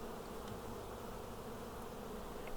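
Faint, even hum of honey bees around a hive just puffed with smoke at the top entrance during super removal, a steady low drone with no voices.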